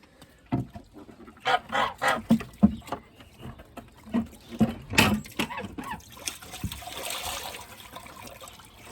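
Geese honk repeatedly in loud, uneven bursts nearby, then quieten as water trickles and splashes in the background.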